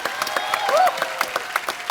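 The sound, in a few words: audience applause for the doctor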